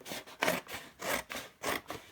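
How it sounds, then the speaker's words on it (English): A pair of scissors trims excess cardboard flaps off a box. Six rhythmic crunching, rasping snips come in quick succession, close and fairly quiet. "I'm just with a pair of scissors going to cut off all the excess bits"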